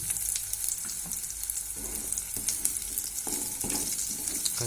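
Raisins and cashews sizzling as they fry in a pan for Bengali flattened-rice pulao, a steady bright crackle close by with occasional stirring scrapes, no voices.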